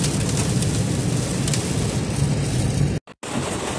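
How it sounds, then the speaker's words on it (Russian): Dense, steady heavy rain roars loudly and close with a continuous hiss, heard from a car driving at 50 km/h on a highway, broken by a brief gap near the end. "Мы попали под дождик. Очень-очень сильный."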